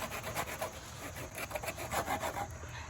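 A handsaw rasps through wood in quick, rhythmic back-and-forth strokes, close and steady, with no voices.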